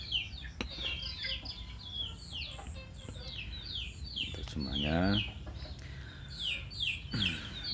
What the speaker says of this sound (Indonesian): ada suara ayam ini ya